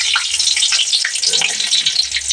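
One bay leaf and two dried red chillies dropped into hot oil for tempering, a loud, close, crackling sizzle with bright spitting pops throughout.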